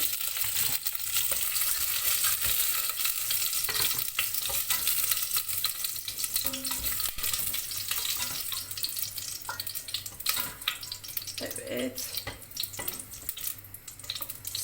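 Vegetables and onion hit hot olive oil in a pan for stuffed artichokes, making a steady, continuous close sizzle with faint scraping and clinking as the mix is stirred.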